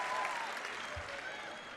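A loud, continuous arena crowd roaring and applauding at a women's college basketball championship game between South Dakota State and Oakland, a steady wall of cheering.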